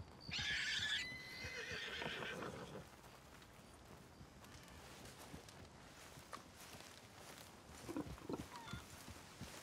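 A horse in the video game Red Dead Redemption 2 gives a loud, close whinny, followed by quieter scattered hoofbeats and soft movement.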